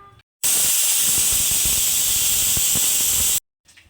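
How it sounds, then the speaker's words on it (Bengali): A pressure cooker whistles while methi pulao cooks, one loud, steady high-pitched steam hiss lasting about three seconds that starts and cuts off abruptly, with quiet kitchen sounds just before and after. "কুকার ঢাকনাটা লাগিয়ে দিয়েছি তো এটাকে আমি একটা সিটি দিয়েই বন্ধ করে দেব"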